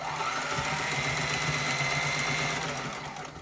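A sewing machine runs steadily for about three seconds while back stitching a CPAP neck strap, a continuous close whirring hum with a fast rhythmic needle pulse, easing slightly at the end.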